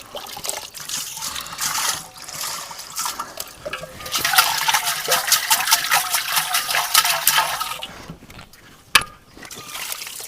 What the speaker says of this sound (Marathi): तर झालेला आहे मस्तपैकी आपला डेरा धुवून